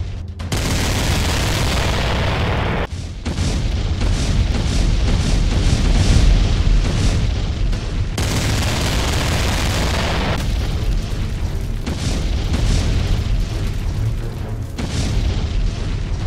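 Animated battle: artillery fire and explosions boom continuously and loudly, with deep repeated blasts and bursts layered into a dense, unbroken barrage with no speech over it.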